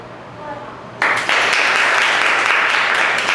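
A hall audience at a high school debate tournament breaks into loud, dense applause for a debater being introduced, starting abruptly after a brief quieter moment and holding steady to the end.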